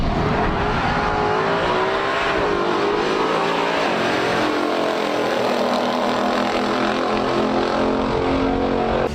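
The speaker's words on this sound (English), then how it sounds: "The distinctive noise of the Hemi V8 still lingers in users' minds to this day." A Dodge Hemi V8 muscle car roars loudly and continuously, its engine note climbing and shifting as it accelerates.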